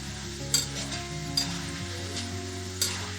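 Jackfruit chips frying in hot oil, a dense sizzle under a few sharp metal clinks of a ladle as they are stirred, with steady background music.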